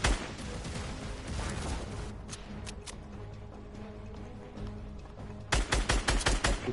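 Gunfire in the video game Fortnite: dense bursts of automatic shots rattling continuously, thinning in the middle, then a sharp, loud volley of rapid, evenly spaced shots near the end, with no talking.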